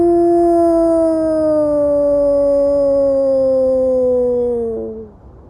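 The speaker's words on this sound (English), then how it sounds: "A wolf typically makes a long, mournful howl" A wolf's single long, mournful howl holds a steady pitch for about five seconds, then drops and fades out, clear and alone.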